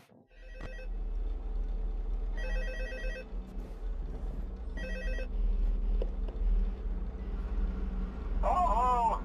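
An old-fashioned telephone rings in Five Nights at Freddy's, with several separate bursts of bell-like trilling over a steady low game drone, close and fairly loud, followed by a short warbling electronic tone at the end.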